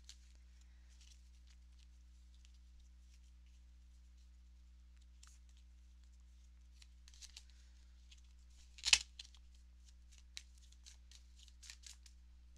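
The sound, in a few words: cards being shuffled and drawn for a reading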